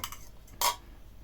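A utensil clinks once against a bowl while a liver mixture is stirred, one short bright metallic tap amid quiet background, close and brief.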